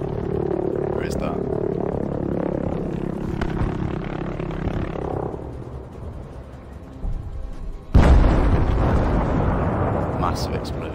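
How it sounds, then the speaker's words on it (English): A massive explosion erupts in the Battlefield 5 game, hitting suddenly after quieter gunfire and engine rumble, with a sharp loud blast followed by a sustained roaring, debris-filled wash that lingers to the end. "Massive explosion."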